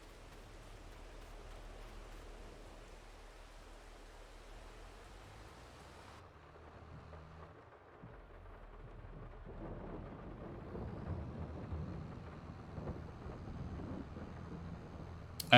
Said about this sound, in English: I love how the rain sounds coming down on the metal of the hood of the roof of the tractor.